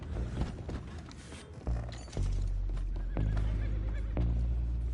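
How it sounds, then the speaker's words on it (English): Horses in Red Dead Redemption 2 whinny and neigh several times amid thudding hoofbeats and clattering movement, fairly close, with a low rumbling background. "Boys, go find out about those horses down below"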